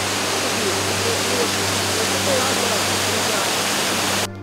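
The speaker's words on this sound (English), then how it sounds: "It is the point where water stream overflowing from Fewa Lake suddenly collapses and surges down the rocks into a deep gorge" Patale Chango, Devi's Fall in Nepal, where the stream overflowing from Fewa Lake plunges down rocks into a deep gorge: a loud, constant broadband roar of rushing water, cutting off abruptly at the end.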